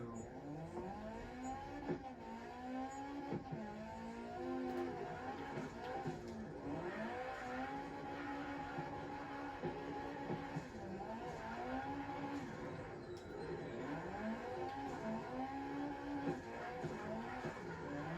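Nissan 240 S13 coupe drifting in the CarX Drift Racing video game, its engine revving and falling in repeated swells over a steady tire squeal, played back fairly quietly with no voices.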